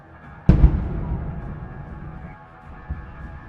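A single sharp blast from a HIMARS precision missile strike on Russian howitzers, followed by a long rumbling decay and a smaller thud a few seconds later, heard from a distance.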